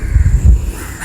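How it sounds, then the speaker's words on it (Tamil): Crows caw near an abandoned army land, with a few rough, low-pitched calls in quick succession over about a second, fairly loud and close, with no one speaking. "குருவி சத்தம் எல்லாம் கேட்குது"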